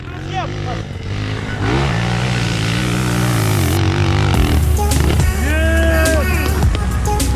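A Chinese enduro motorcycle engine in second gear drones loudly and close, its pitch rising and falling as it revs and rides on, without people talking.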